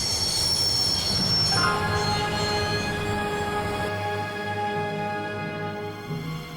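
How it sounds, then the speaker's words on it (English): Train wheels squeal loudly as a train brakes to a stop in the Broken Sword video game, a sustained metallic screech with layered high tones over a steady rumble that drops off near the end. "I'd always wanted to stop a train, and now was my chance."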